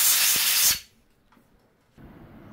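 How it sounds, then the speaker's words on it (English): Compressed air blasts muck out of a threaded bolt from a barn-find Suzuki Katana motorcycle: a loud, close, steady hiss for under a second, then stops abruptly, leaving near silence before a faint low background returns. "Just give it a little blast out with some compressed air."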